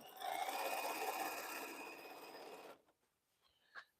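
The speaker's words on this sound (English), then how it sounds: "I'm just sewing the pieces together that I need to sew together." Sewing machine stitching scrappy quilt pieces together, a steady close whirring hum for under three seconds that stops abruptly, followed by quiet and a brief faint click.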